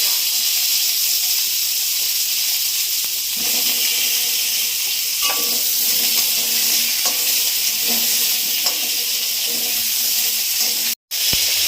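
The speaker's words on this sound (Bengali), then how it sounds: "এই তেলে এবার পটলগুলো ভাজবো।" Pointed gourd (potol) pieces frying in hot oil, giving a steady broad sizzling hiss throughout with faint stirring clinks, close and fairly loud, no talking.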